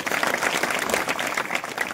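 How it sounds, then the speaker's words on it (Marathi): A crowd claps steadily and densely for about two seconds at a public kirtan in the village of Pathrad Khurd, with the applause filling the space evenly and no pauses. "त्यांच्यासाठी टाळी वाजा मारा"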